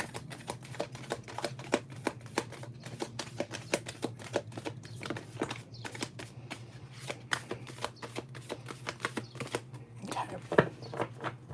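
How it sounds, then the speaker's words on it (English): Tarot cards being shuffled by hand for a three-card draw, a rapid run of close, crisp riffling flicks and slaps repeating steadily through the whole stretch, with no talking. "So can we get 3 cards, please, for Karen?"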